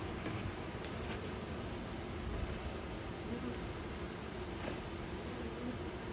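Honeybees buzz steadily around an open hive during an inspection of a queenless colony with no brood, a dense, even hum close by that carries on without a break.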